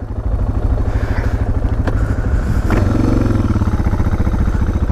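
A Suzuki DR650 dual-sport motorcycle rides close by with a loud, steady thumping single-cylinder engine note, a brief rev near the end, and no voices.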